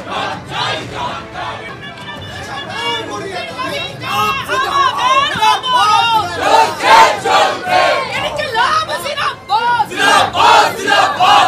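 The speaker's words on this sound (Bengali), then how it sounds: "ইতিমধ্যে কিন্তু থানার ভেতরে এই স্লোগান চলছে" Loud crowd chanting political slogans in unison inside a police station during a protest. Many voices shout in a repeated rhythmic cadence that builds in intensity, close and dense with babble underneath.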